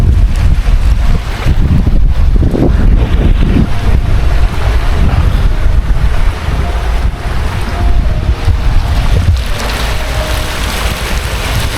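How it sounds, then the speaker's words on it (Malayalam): Cool sea wind on Koh Phangan island in Thailand blusters loudly and continuously, buffeting the microphone with rumbling gusts over a wash of surf along the rocky shore. "നല്ല തണുത്ത കാറ്റ്, വെയിലുണ്ടെങ്കിൽ കൂടി കാറ്റ് തണുപ്പുണ്ട്."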